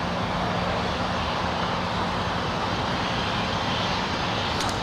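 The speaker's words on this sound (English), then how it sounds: "And there it is on the takeoff roll. Already lifting off." A Polar Air Cargo freighter on its takeoff roll and lift-off at LAX, heard as a loud, steady, broadband engine roar that holds constant throughout without speech.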